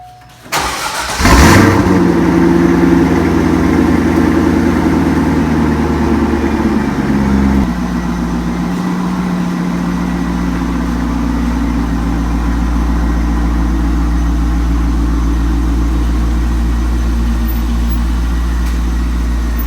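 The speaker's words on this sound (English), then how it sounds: "we're going to start with a cold start here" A Corvette C5 engine cold-starts, cranking and catching, revs high for several seconds, then settles into a steady, rumbling idle, loud and close.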